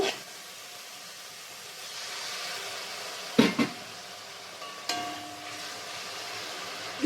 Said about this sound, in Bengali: জল দিয়ে একটু ভালো করে কষিয়ে নেব